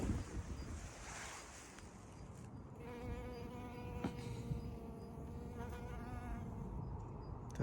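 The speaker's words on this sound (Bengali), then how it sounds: "তারপর দেখুন একটা মৌমাছি" A bee buzzes faintly in a grassy, flowering Swiss hillside meadow, a thin intermittent hum over a soft outdoor background, fairly distant and quiet.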